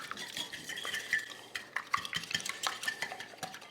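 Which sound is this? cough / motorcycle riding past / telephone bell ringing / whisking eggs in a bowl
whisking eggs in a bowl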